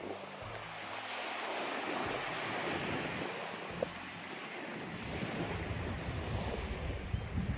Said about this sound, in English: Mostly this is just a quiet beach.